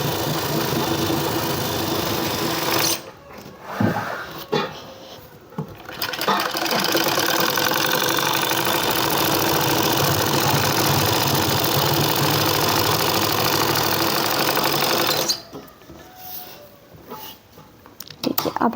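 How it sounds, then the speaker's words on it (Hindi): A sewing machine runs a double line of stitching along a palazzo pants seam, whirring steadily and loudly for long stretches. Two short pauses break the run, and someone speaks during them. "अब इस सिलाई को हम डबल कर लेंगे यहाँ ऊपर से ही"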